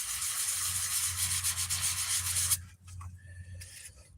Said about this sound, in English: Circular sanding in metal and everything else, also wood, hides imperfections and polishes well